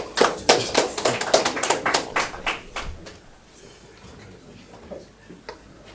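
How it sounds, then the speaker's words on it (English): Ceremony audience applauding at a bond listing event on the Botswana exchange: a dense burst of claps for about three seconds that quickly thins out and fades, leaving quiet room tone with a few scattered claps. "Let's please give him a very huge round of applause."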